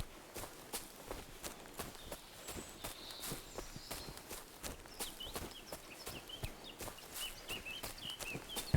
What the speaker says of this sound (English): the crunch of the leaves under my feet